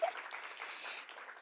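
Faint, distant applause from an audience honouring Miss Namibia 2024 at a legacy handover ceremony, a soft continuous patter of many hands lasting briefly.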